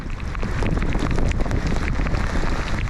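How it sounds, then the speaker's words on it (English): Strong wind buffets the microphone in a continuous roar during a rain squall at sea off Peter Island, British Virgin Islands, with rain and water noise blended into the steady blustery rush. "We woke up the first morning to a windy and very wet rain squall"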